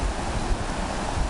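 The Etchemin River runs high in April, with snow still on the far bank. It makes a continuous, fairly loud rushing of water close by, with no talk.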